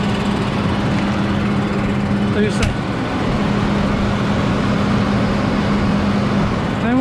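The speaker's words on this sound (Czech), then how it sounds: "Tenhle těžký polní traktor to v pohodě ubrzdí." Steady engine drone of a heavy Case IH Magnum 260 field tractor hauling haylage bales, a constant low hum with a brief clunk partway, while someone speaks briefly over it.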